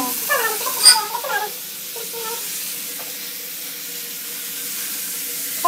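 Rugra, a Jharkhand mushroom vegetable, fries and sizzles in a pan. A few stirring scrapes come at first, then a soft, steady frying hiss carries on alone.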